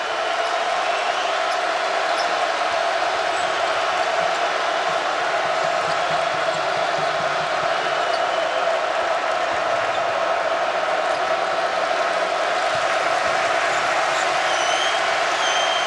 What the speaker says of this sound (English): Now the crowd's getting in it.